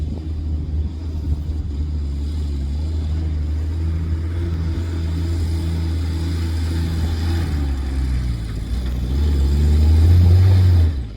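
A 2023 Nissan G60 Patrol's engine rumbles loud and close as it revs in second gear on a Victoria High Country trip, holding a deep steady drone that swells louder near the end.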